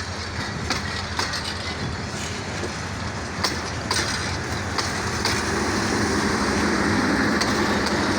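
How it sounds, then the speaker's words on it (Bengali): Intercity Kurigram Express no. 798, a 28-coach train hauled by locomotive 3002, rumbles past close by with a steady roar of wagons and rhythmic clickety-clack of wheels over rail joints, growing slightly louder toward the end, with no talking. "28টি হিসাবে কোচ নিয়ে যাচ্ছে আন্তনগর কুড়িগ্রাম এক্সপ্রেস ট্রেনটি 798। আর লোকোমোটিভ ছিল 3002"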